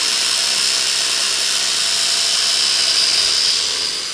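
A power tool cutting the end off a bolt in a workshop, a loud, steady high-pitched grinding whine held for about four seconds before easing slightly at the end.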